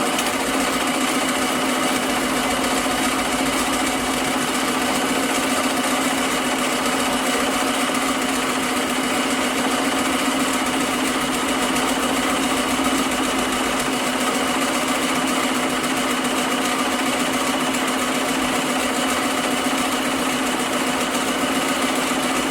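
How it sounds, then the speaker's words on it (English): A JUKI embroidery machine stitches a design, holding a loud, steady mechanical whir with a fast even needle rhythm that runs unbroken throughout, with no voices. "Machine will move over and begin stitching."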